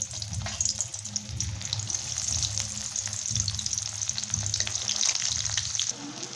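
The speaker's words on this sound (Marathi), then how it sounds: "आता आपण वांगी तळून घेऊया" Whole brinjals deep-frying in hot oil give a steady, dense sizzle and crackle that runs unbroken for several seconds, close and fairly loud, with no one talking.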